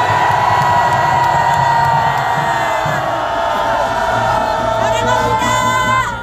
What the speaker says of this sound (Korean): 미주에 있는 우리 애국당 당원들과 애국 국민들께 큰 함성을 질러주십시오